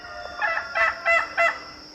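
A duck perched on a pickup truck gives a run of four honking quacks, the last three louder and evenly spaced, close by over faint outdoor background.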